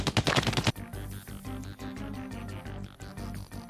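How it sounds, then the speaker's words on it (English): Bombs explode in the Super Luigi Galaxy video game as a fast burst of blasts, followed by loud rhythmic thumping game sound with dense repeated hits. "It's blowing up the bombs in time that's the hardest part."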